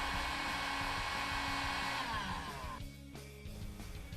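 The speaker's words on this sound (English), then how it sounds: "Using a low heat setting on a heat gun, heat the end of the tape about 120 to 150 degrees Fahrenheit" A heat gun on a low setting warms the end of Squids tool-tether tape, giving a loud, steady blowing hum that runs unbroken and eases slightly in the last second.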